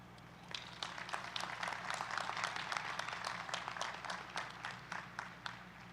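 A graduation audience at Fayetteville State University claps steadily, a dense, continuous applause that holds for several seconds at a moderate, fairly distant level.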